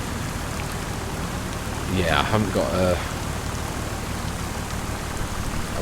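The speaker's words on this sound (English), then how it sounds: "It is raining. I'm going to say, to be honest, I don't think there's much would survive that kind of a downpour" Heavy downpour in Farming Simulator 25, a dense, steady hiss of rain falling throughout, with someone briefly talking over it in the middle.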